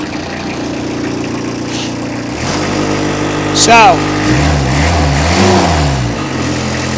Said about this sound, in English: So, I'm going to fire this thing up.